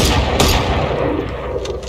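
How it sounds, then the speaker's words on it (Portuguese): Gunfire from the Guardian rifle in Valorant, several loud close shots blending into a dense, sustained burst with a heavy low rumble and no voices. "Mas o barulhão da Guardian é um dos melhores do jogo"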